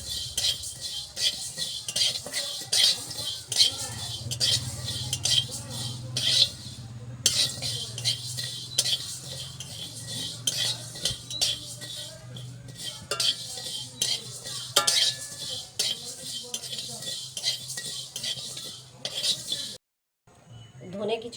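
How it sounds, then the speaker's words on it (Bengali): Coriander seeds dry-roasting in a pan for a jujube pickle, with a metal spoon scraping and clinking against the pan in a busy, close rhythm over a faint crackle, briefly pausing near the end. "ধনে ভেজে নেব।"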